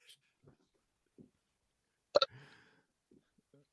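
A man gives one loud, abrupt belch with a short rasping tail in an otherwise quiet room, surrounded by a few faint vocal sounds.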